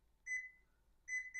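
An electronic kitchen timer is set while oatmeal scotchies bake: two close, clear bursts of high beeps, a longer tone then a shorter pair, with no talking.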